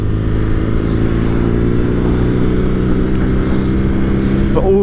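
A 2020 BMW R nineT Scrambler ridden through town gives a loud, steady engine drone close to the mic, mixed with wind rush and a brief lift in pitch near the end.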